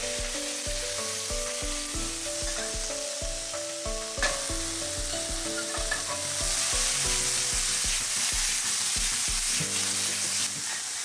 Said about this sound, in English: Add the sliced meats and mix for 1 to 2 minutes.